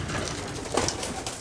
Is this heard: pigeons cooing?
yes